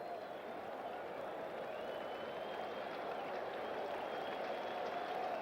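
A 1984 baseball stadium crowd at a Cubs at Mets game rouses after a two-strike count, a steady broad roar of cheering held at a distance without letting up.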